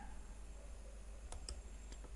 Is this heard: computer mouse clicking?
yes